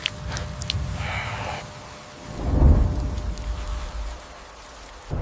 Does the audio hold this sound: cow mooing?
no